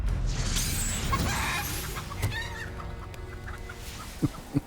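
A chicken clucks in Hogwarts Legacy after a wizard duel, a busy burst of spell effects and clatter first, then a few sharp, close clucks standing out alone near the end.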